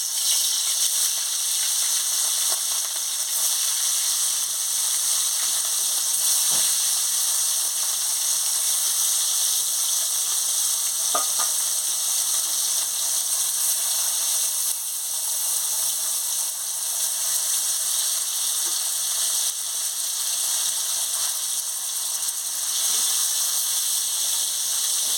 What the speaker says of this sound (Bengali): আমি মাছটা দিয়ে দিচ্ছি।